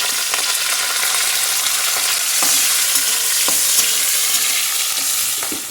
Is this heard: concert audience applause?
no